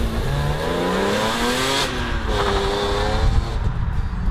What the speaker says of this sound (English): The first one is pulling away from almost a standstill with the valve closed, so just my standard exhaust sound.